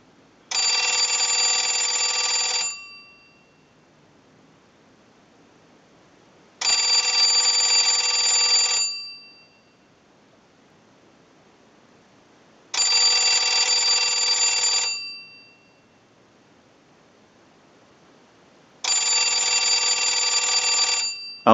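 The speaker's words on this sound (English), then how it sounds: "use our analyzer and send a ring cycle like you were getting a call" A Northern Electric three-slot payphone bell rings in four long bursts of about two seconds each, separated by four-second silences, loud and clear with no voices.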